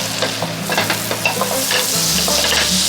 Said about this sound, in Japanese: sliced garlic with olive oil and butter and turn on the switch